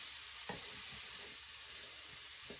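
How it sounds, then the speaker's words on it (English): Peaches stirred in a hot pan, a soft steady sizzle with a few light scrapes of the spoon against the pan, close but quiet, no talking. "Give it a stir."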